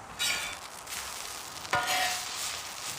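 Breakfast sizzling on a flat top grill outdoors at a campsite, a soft steady fry crackle with brief louder bursts of hiss and a sharp scrape of stirring partway through, no voices.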